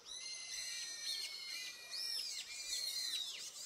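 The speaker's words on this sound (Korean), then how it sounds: "새소리가 너무 아름답죠." Birds sing on a mountain at sunset: clear, high, whistled calls that rise and fall in repeated phrases, several overlapping, fairly soft against a quiet background.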